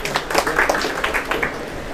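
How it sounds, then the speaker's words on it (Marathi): An audience bursts into hearty applause for a contestant at a quiz show, with dense, steady clapping that fills about two seconds. "तर दादांसाठी एकदा जोरदार टाळ्या होऊ द्या"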